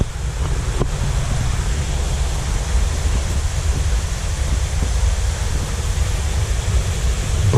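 A waterfall in St. Lucia cascading into a deep pool, heard as a dense, unbroken roar of falling water, loud and close, with no voices over it.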